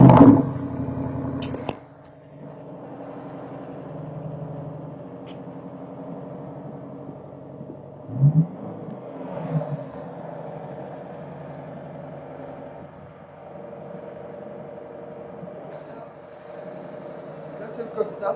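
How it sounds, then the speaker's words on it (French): A 2020 Audi RS6 idles after a cold start, a steady low engine drone running throughout, with a brief louder rumble near the start and another burst midway. "je vais vous faire écouter un petit peu le bruit de la voiture"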